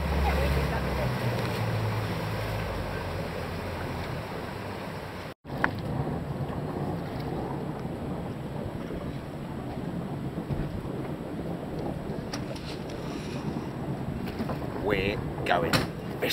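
A boat motors out from an island toward catamarans waiting in a bay, a steady engine drone and water rush with wind buffeting the microphone throughout.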